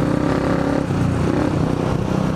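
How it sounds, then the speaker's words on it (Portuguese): A malfunctioning motorcycle engine revs hard and close, a loud, rough, continuous roar with a ragged, clattering edge throughout. "Vou mostrar a moto dando B.O., ó. Vou mostrar a moto fazendo isso."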